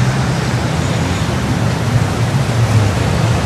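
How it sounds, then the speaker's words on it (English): Outdoor fountains splashing in the background, a constant, loud, even wash of falling water with no pauses and no one talking over it. "Can everybody hear me over the fountains back there?"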